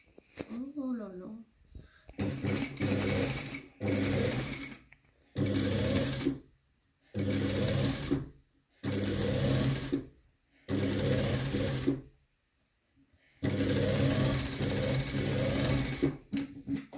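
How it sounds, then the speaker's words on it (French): A sewing machine stitches a seam on a handmade handbag sewn from recycled material, running in seven close, loud bursts of rapid mechanical whirring separated by short pauses, the last burst the longest. "je vais piquer sur la couture comme la première"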